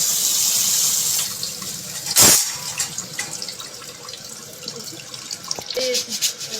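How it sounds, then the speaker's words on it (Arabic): A kilo of rice washed by hand under a running kitchen tap, with steady splashing water, a sharp burst of rattling grains and sloshing midway, and a voice speaking over it. "بصوا بنغسل الرز اهو غسله بسيطه كده خالص"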